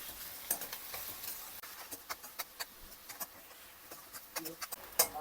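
Curry leaves and chillies fry in hot oil in a pan, a steady soft sizzle with scattered sharp pops and crackles spiking through, close and moderately quiet without speech.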